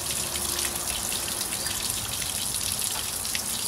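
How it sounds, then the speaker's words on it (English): Water gushes steadily through a hose to flush an outboard boat motor, a constant hissing splash heard close, with no voices. "I've got my water running."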